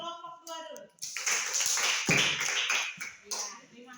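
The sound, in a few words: class clapping for a group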